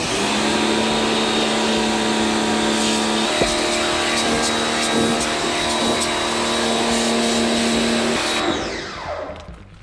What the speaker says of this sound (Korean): 자, 첫 번째 계양 고압 세척기